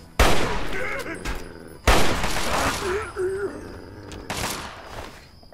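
Gunfire in Fallout 3: two loud, sharp bursts of shots a couple of seconds apart, close and booming, with a further fainter blast near the end and game sound in between.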